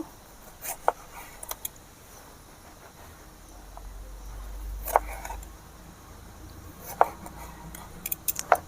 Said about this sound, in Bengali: এবারে আমি টমেটোটা কেটে নেব